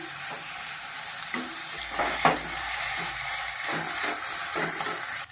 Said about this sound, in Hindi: तो चलिए इसे अच्छे से हम चला लेते हैं।